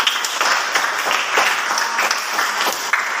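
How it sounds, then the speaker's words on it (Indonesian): Classroom audience applause after a poetry reading, steady dense clapping filling the whole stretch with no one talking over it. "tepuk tangan buat saudara"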